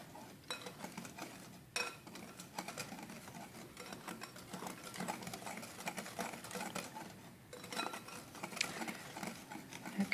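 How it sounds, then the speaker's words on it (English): Banana bread batter is stirred by hand in a bowl, giving quiet, close, rhythmic scraping and clinking of a utensil against the dish, with no talking. "First I stir this up here"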